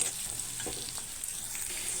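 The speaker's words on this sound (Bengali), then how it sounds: "তো পেঁয়াজ কেটে নিয়ে আমি তেলে দিয়ে দিলাম" Chopped onions frying in a little oil with two cardamom pods, giving a soft, even sizzle with faint stirring scrapes, fairly quiet and close.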